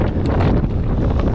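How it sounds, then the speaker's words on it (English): Gusty wind buffeting the microphone during a mountain bike ride, a loud, steady low rumble of wind noise with no voices. "Definitely windy today"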